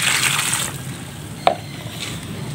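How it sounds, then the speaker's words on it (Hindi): Water poured into crumbled dough and worked in by hand, heard up close as a soft, brief wet splash and rustle that quickly settles, with one sharp little tap partway through. "चलें थोड़ा पानी और ऐड कर लेते हैं अंदर"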